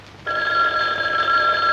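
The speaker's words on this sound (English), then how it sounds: "Phone ring, me go." A telephone bell rings in a 1960s TV drama scene, a single continuous electric ring that starts abruptly after a quiet moment and holds steady, clear and fairly close.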